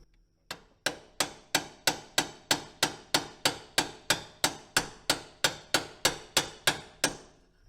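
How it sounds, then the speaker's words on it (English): A medium-sized hammer taps a steering U-joint cap on a Ford Super Duty, about twenty sharp metallic strikes at an even, steady rhythm, close and clear with nothing else heard. "I've brought out the medium-sized hammer. I don't want to get too buck-wild and break this cap, but we'll just keep tapping along."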